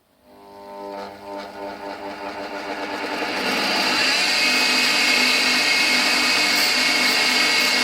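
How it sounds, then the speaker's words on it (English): Surface grinder grinding a lathe grooving tool insert, a steady loud whirring grind that builds up over the first few seconds and then holds at a constant high level, with no talk. "The insert is first trued on one side on the surface grinder I built."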